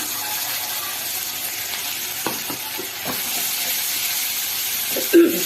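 A soaked spice paste sizzles in hot oil in a home kitchen pan: a continuous, even frying hiss with a few faint clinks from stirring and a brief louder sputter near the end.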